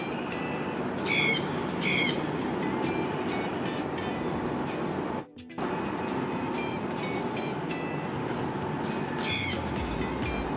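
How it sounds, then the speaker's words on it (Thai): Birds call and chirp in short bursts over a steady, loud background rumble, with several high twittering calls standing out, then a brief dropout midway. "เสียงนกนี่ก็รบกวนเหลือเกิน"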